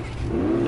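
A car engine in a PlayStation 4 video game revs up in a short, steady burst, its tone rising slightly and getting louder toward the end, heard close and alone without talk.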